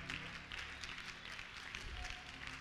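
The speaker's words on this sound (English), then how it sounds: "Come on, clap your hands." A church congregation claps their hands together in a steady, moderately faint applause that fills the room, with a faint murmur of voices underneath.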